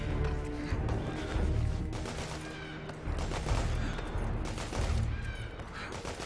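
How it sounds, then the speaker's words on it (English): Rapid bursts of gunfire in the video game The Order: 1886 crackle almost continuously, with sustained automatic volleys and dense, loud, close-sounding shots throughout. "I keep on hearing his gunshots"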